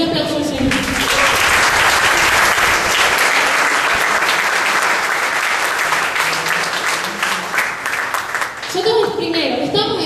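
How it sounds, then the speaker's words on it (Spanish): Sustained applause from a church congregation, dense and loud, filling about nine seconds before tapering off as voices and other sounds return near the end. "Denle un aplauso al Señor"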